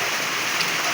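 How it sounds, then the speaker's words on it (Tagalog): Light rain falling steadily on Valentine's Day, a soft, even hiss of drops with no clear individual impacts, close and constant throughout. "Yan, umuulan. Mahina lang yung ulan."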